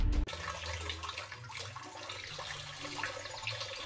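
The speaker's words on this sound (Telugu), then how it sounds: "నంబర్ 3, మూవీలో వాటర్ ఫాల్ సౌండ్ ని ఇలా క్రియేట్ చేస్తారు." Foley recreation of a movie waterfall: a steady, continuous wash of rushing, splashing water that stays fairly even and close throughout, with no voices.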